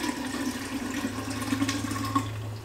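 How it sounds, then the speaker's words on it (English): Brewed tea poured into a jar for growing a kombucha SCOBY, a steady continuous liquid pour with a low watery rush that holds at an even level for a few seconds, with no talking. "So I'm going to pour the tea into the jar."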